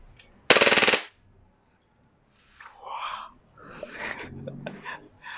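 A WE Glock 18 airsoft pistol empties its magazine in one rapid full-auto burst lasting about half a second, loud and close, followed by quiet and then someone speaking.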